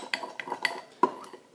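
Lip balm, vaseline and sugar being stirred together in a small container, giving soft scraping and a few sharp clinks of a utensil against the dish, close and alone.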